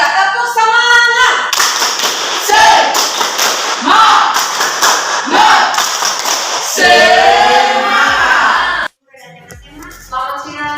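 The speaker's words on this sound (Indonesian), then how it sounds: "1, 2, 3, tepuk semangat." Classroom group doing a rhythmic spirit clap after a presentation: several synchronized bursts of hand claps in a patterned beat, interspersed with voices chanting along, then a brief stop before talking resumes.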